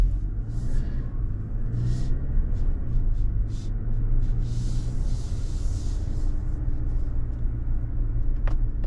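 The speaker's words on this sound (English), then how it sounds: "I got plenty of power for cruising. So a little driving at night." A Mazda CX-90 plug-in hybrid cruising at night gives a steady low road rumble and engine hum from inside the cabin, with a few faint knocks and clicks over it.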